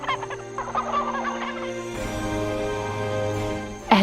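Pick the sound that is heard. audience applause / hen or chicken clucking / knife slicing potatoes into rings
hen or chicken clucking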